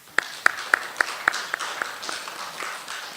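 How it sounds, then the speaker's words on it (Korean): A church congregation claps together in unison during a Sunday service, with sharp, evenly spaced claps about a quarter second apart that grow softer and less distinct after a few beats. "우리 서로 박수 한번 합시다"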